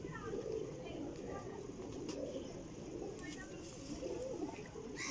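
Flying pigeons kept in Jhelum give soft, repeated low cooing throughout, close and quiet, with a few faint chirps and light rustling mixed in.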